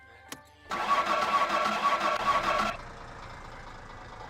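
A car engine in the driving game My Summer Car cranks and catches with a loud burst of sound, then runs roughly for about two seconds before settling into a quieter, steady idle.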